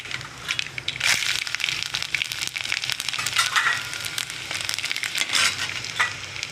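Mustard seeds and garlic sizzle steadily in hot oil for a raw mango chutney, a dense, close crackle with scattered pops that swell and ebb in bursts, heard alone with no voices.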